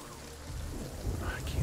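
Steady rain hissing in a video game, with a low rumbling swell like distant thunder, moderately loud and continuous, with faint indistinct voice-like sounds.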